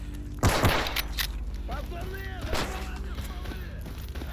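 Shotgun blasts from a first-person video game, with a loud burst near the start and a second thud later, set against steady game ambience while someone talks over it.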